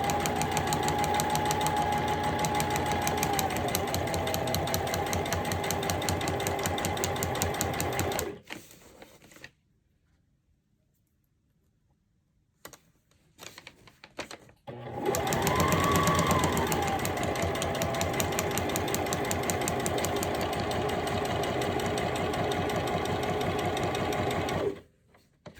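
A sewing machine runs steadily while stitching a Christmas stocking, in two long bursts of rapid, even stitching with a pause in between.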